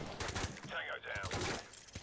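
Gunfire in a Call of Duty: Modern Warfare Remastered battle, a steady broadband wash of shots running through the whole stretch with a voice-like tonal sweep partway through, loud and dense rather than distinct single bangs.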